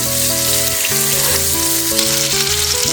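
A steak searing loudly in a hot pan while being basted with butter, a dense continuous sizzle and spatter close up with a low background hum; no voices.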